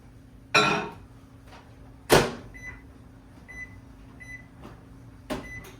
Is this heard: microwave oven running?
yes